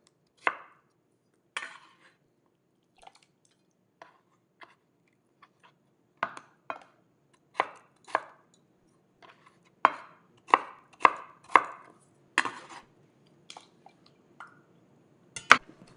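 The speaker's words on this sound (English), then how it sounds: "Stack it up, cut into cubes, and put it back in the salted water." Knife chopping boiled potatoes into cubes on a cutting board, a run of crisp close taps coming in uneven bursts, sometimes quick doubles and triples, with quiet gaps between and no talk.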